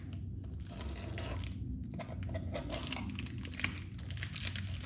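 Packing tape pulled and peeled off a Big Berkey water filter box during unboxing, close crinkling and tearing with crackly bursts of plastic and cardboard handling over a steady low background rumble.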